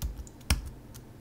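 Several soft, close keystrokes on a computer keyboard, with one sharper louder click near the middle, as a Drush command is typed.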